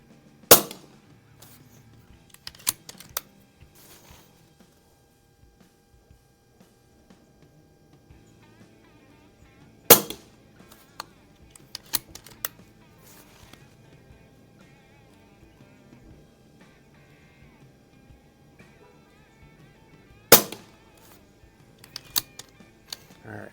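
An Umarex Notos PCP air rifle firing Crosman Premier hollow point pellets at a 25-yard range gives a few sharp, loud cracks spaced about ten seconds apart, with softer clicks and handling noises in between.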